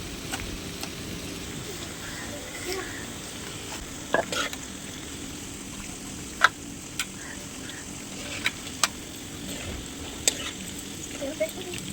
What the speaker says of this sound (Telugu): వేగినాయి సార్ చిక్కుడుకాయలు వేపేసా కేజీ కాయలు ఎంత బాగా వేగినాయో